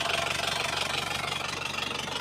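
With the hood open, a car engine idles close by in a steady, even mechanical hum with a faint rhythmic pulse, and no voices are heard.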